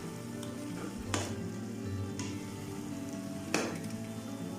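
Keema minced meat frying in a pan, a steady low sizzle with occasional sharp scrapes of a spoon stirring against the metal.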